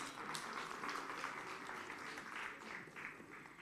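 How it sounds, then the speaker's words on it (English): Audience applause for a government minister at a post-budget-vote stakeholder engagement, a steady wash of clapping lasting a few seconds at moderate, even loudness in a hall, with no talking over it. "Another round of applause for the Minister, please."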